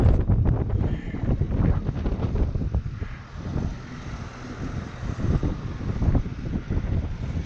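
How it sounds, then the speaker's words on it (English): Strong wind gusts buffet the microphone outdoors near a spreader and sweep, a steady roaring rumble with fluctuating bursts throughout, loud and close. "I'm fighting the wind down here."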